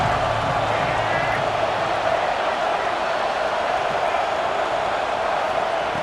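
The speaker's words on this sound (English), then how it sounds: "Third down and the crowd really getting into it." A stadium crowd in the EA Sports College Football 26 video game produces a dense, continuous wash of cheering and roaring on third down, loud and unbroken throughout.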